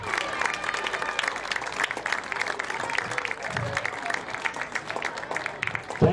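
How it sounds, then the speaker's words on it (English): An audience at a high school football game ceremony gives a sustained round of applause honoring a former team, with steady dense clapping and a few voices faintly beneath it. "Let's give the 87 team a round of applause."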